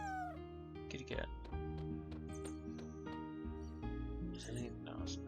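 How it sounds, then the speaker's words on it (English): A cat meows several times in the Chrono Cross video game, short pitched calls over a bright, tonal game music background with a few chimes. "Kitty cat."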